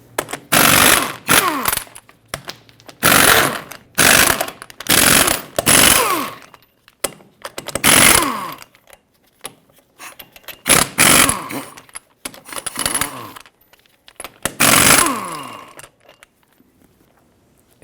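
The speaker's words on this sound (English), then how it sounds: "Now remove all 8 of your 22mm lug nuts." A power impact tool spins the 22 mm lug nuts off a Chevrolet Silverado 2500 HD wheel in loud, close bursts of buzzing and rattling, separated by short quiet gaps.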